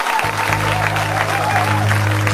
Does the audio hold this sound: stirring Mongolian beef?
no